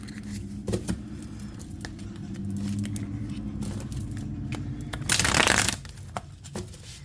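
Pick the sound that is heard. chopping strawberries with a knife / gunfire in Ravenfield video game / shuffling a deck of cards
shuffling a deck of cards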